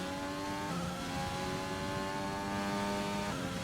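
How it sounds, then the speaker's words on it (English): High-revving F1 race car engine in the F1 2020 video game during a race in Bahrain, a steady screaming whine with gear-change pitch shifts, near and continuous with no talk. "Bad for my poor gearbox, I'm revving it so high."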